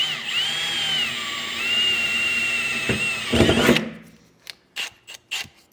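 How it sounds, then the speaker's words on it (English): A power drill fitted with a small pilot bit whines steadily with a rising and falling pitch, bites briefly into material, then stops, followed by a few sharp knocks, during gooseneck hitch installation on a 2016 Chevrolet Silverado. "I'm going to start with a pilot bit, just a smaller"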